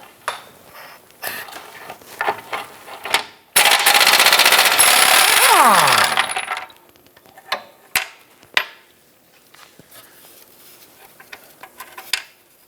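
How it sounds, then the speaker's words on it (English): An impact wrench spins out a subframe bolt on a 2008-2013 Nissan Rogue during a front rearward subframe bushing replacement: one loud, sustained rattling burst of about two and a half seconds, framed by scattered metallic clicks and taps. "Then use your impact and remove the bolt."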